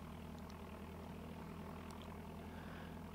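Aircraft engine running steadily in Microsoft Flight Simulator 5.1, a low, constant propeller drone with a buzzing hum, fairly quiet and alone, no clear start-up surge.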